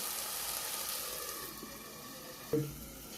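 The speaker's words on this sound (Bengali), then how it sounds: "ভালো করে মশলাটাকে কষিয়ে দেবো" Spice masala with turmeric sautéing for a village-style bata fish curry, a soft steady sizzle close by with one brief clink of a utensil near the end.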